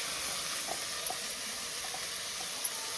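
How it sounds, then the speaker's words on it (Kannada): Ground masala paste fries with mushrooms in a pan, giving a steady soft sizzle and hiss with a few faint stirring taps and no talk. "ಇವಾಗ ಏನು ರುಬ್ಬು ಇಟ್ಕೊಂಡಿದ್ವಲ್ಲ ಆ ಮಸಾಲಾನ ಹಾಕ್ಬಿಡೋದು"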